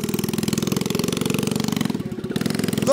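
A pink mini quad bike's small engine revs steadily with a fast, pulsing putter, close and fairly loud, rising briefly in pitch near the end as it accelerates.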